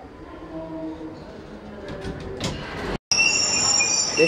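A London Underground train rumbles along steadily with a broad roar, then briefly cuts out before returning louder with high-pitched wheel squeal ringing over the noise.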